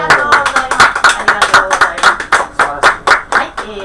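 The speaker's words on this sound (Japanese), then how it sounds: "拍手にお応えして" An audience clapping in time at a live Japanese variety performance, loud and close rhythmic handclaps, about five per second, steady throughout.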